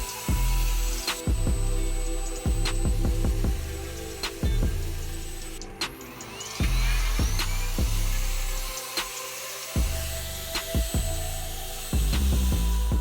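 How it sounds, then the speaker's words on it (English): A router cuts waste wood away from a live edge board for a woodworking end table, giving loud, sustained whirring machining bursts that stop and restart several times. "then routed that waste material away that would later be filled with epoxy."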